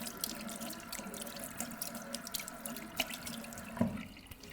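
Razor rinsed under running water from a tap during shaving, a steady close stream of splashing with small drips and clinks, and no voices.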